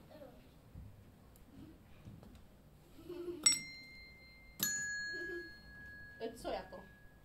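A small bell rings on stage during a theatre performance, two bright, clear strikes a second apart that ring on, followed by a softer jingle, with quiet voices talking between them.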